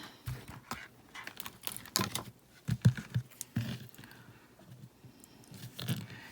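Scissors snip through denim to make tassel earrings, a run of close, crisp crunching cuts in an irregular rhythm, quiet overall with no talk.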